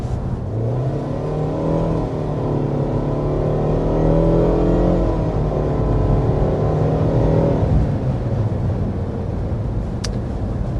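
A 2024 Mitsubishi Outlander with a CVT accelerating up to speed, its engine drone rising smoothly in pitch without gear-shift steps, then easing off near the end, heard steadily from inside the cabin.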